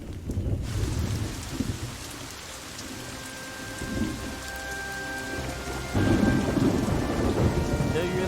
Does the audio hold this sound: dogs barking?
no